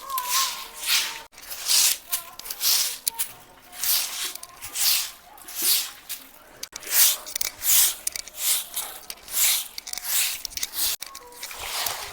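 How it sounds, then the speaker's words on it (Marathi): Wet mixture is smeared and plastered by hand across a village courtyard floor in rhythmic, repeated squishing strokes, each a soft slap-and-drag, close and alone with no talk. "प्रत्येक सणाला गावाकडे अंगण सारवलं जातं"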